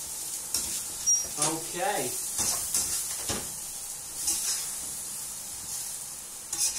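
Noodles stir frying in a roughly twenty-year-old frying pan, giving a steady sizzle and hiss with bursts of stirring, while someone speaks briefly over the cooking.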